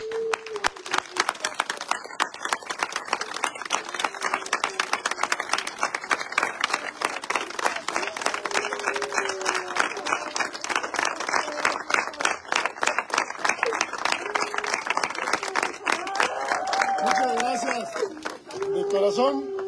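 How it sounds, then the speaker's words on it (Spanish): Mourners at a funeral giving a minute of farewell applause, a sustained crowd clapping with rapid uneven hand claps, mixed with voices talking and calling out over it. "queremos que les den un minuto de aplausos de despedida"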